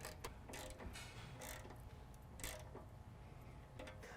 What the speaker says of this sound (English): We're going to tighten that down with 4 millimeter Allen.